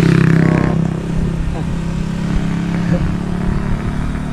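A motorcycle engine rumbles and revs nearby on a hillside road above a highway, a steady mid-pitched drone lasting several seconds with clattering bits. Voices can be heard faintly alongside it.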